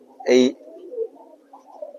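A single short coo from a Lakha pigeon inside a loft, close and clear, followed by soft low murmuring and faint shuffling.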